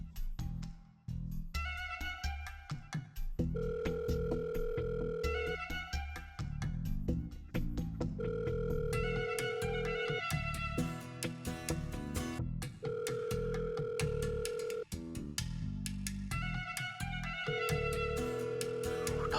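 A repeating electronic phone ringtone melody plays over a bass-heavy musical backing, looping steadily and loudly with no voices.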